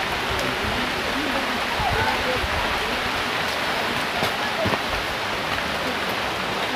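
Rain falls steadily outdoors in the mountains, a dense, constant hiss of drops pattering on surfaces that stays at an even level throughout.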